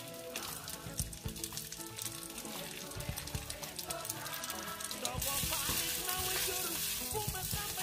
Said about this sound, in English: The sausages have been frying for 2 minutes.